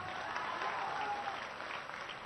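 Sustained applause from a political rally crowd in Bihar, a dense steady clapping wash with no gaps, fairly loud and close, lasting the whole stretch.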